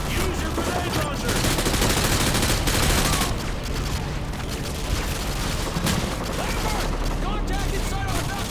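Heavy battlefield gunfire and grenade launcher blasts in the Call of Duty: Modern Warfare 2 campaign, a dense, continuous roar of shots and booms layered with shouted voices.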